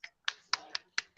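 A few sharp, separate claps in a quick uneven rhythm, thin and compressed as they come over a video call during a virtual Toastmasters club open house.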